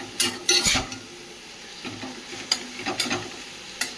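Overripe greens (saag) are stirred as they fry down in a pan, with soft sizzling under bursts of metal scraping and clinking from the spoon at irregular intervals.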